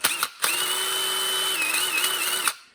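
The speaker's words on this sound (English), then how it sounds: "I can just connect this here with a quick connect either to my drill or to my driver" A power drill spinning a scouring pad whirs steadily for over two seconds at close range, spinning up after a brief start and winding down at the end.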